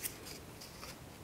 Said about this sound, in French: Hop, je découpe parce que sinon c'est trop compliqué.